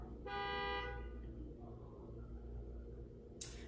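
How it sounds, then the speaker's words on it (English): A car horn toots once in a short burst over steady traffic rumble, followed by a brief sharp sound near the end. "I'm taking those honks as confirmation too."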